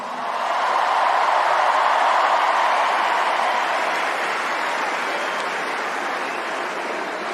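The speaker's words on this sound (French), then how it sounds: "Vous pouvez vous applaudir" An audience gives a sustained, dense round of applause, a loud wash of many hands clapping together that swells quickly and holds steady before easing slightly toward the end.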